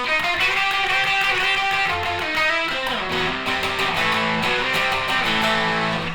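An electric guitar plays through a Tubescreamer overdrive pedal, giving continuous crunchy, mildly distorted chords and notes at a loud, steady level.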